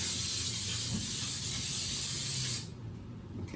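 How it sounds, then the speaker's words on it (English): A continuous hissing spray from an aerosol cooking oil can onto a pan lasts about two and a half seconds, then cuts off abruptly, leaving quiet room tone. "I'm gonna move it over here to spray."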